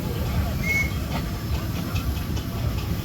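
Steady steam showman's engine running at the Tredinnick steam rally, with a continuous low chuffing rumble and soft hiss, fairly close, with faint background voices.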